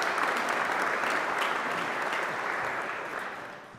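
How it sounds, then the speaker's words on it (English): An audience at a university graduation ceremony claps steadily for the venue staff, a dense, even wash of applause that slowly fades toward the end. "let's give them a hand of applause"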